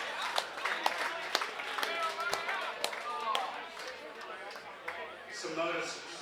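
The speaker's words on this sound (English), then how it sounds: "Alec Everardis, huge round of applause for Alec." Applause from an audience at a lawn bowls club grand final, scattered clapping under someone talking loudly over it.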